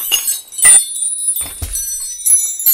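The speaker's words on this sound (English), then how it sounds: "So that's wind chimes, and that's what they sound like" Wind chimes jingle in a few bright bursts, their thin metallic tones ringing and shimmering on between strikes, close by with no other sounds.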